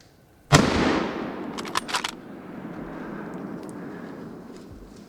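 A single sharp rifle gunshot fired at a wild boar during a hunt, loud and close, followed by a long rolling echo through woodland and a few faint clicks.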